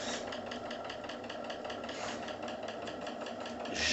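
The steam engine of the steam launch Topaz runs slowly, a steady rhythmic chuffing and mechanical clatter with regular soft beats, close but fairly quiet, with a brief swell near the end.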